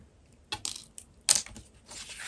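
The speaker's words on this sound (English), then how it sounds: "And I'm just getting a paper clip." A metal paper clip being picked up and handled during a paper craft project, giving a few brief, quiet clicks and rustles close by with gaps of near silence between them.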